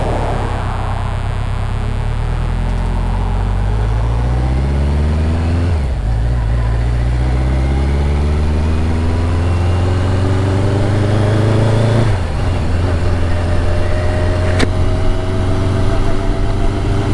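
Two cars passing on a nearby road blend with a steady low engine drone, their pitch sweeping as each goes by, loud and continuous with no talk.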